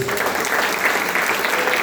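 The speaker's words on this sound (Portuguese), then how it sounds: "Dê uma salva de palmas." A continuous wash of applause from a church congregation during a family worship service, steady and dense throughout, with a faint murmur of voices mixed in.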